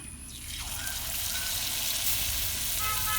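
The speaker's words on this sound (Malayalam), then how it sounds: "ഇനി അടുത്തത് ബജി ഉണ്ടാക്കണം ബജി പൊരിക്കാനായിട്ടുണ്ട്" Steady sizzling of bajji frying in hot oil, a continuous crackling hiss that holds loud and even throughout with no talking.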